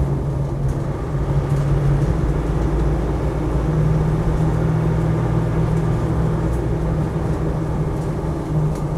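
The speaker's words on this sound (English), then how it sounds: "Turbo kicks in." A Land Rover Defender 90 with a 300Tdi diesel engine accelerates as its turbo spools up, giving a steady low engine drone with a faint whistling tone rising and holding over continuous road and tyre noise.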